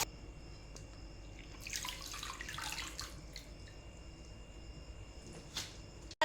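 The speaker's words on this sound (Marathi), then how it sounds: "बघा आता ही भाजी आपण छान धुवून घेऊ स्वच्छ पाण्याने।" Tender patur greens, a wild monsoon leafy vegetable, are washed in clean water, giving soft running and splashing water sounds at moderate distance over a steady background of faint insect chirping.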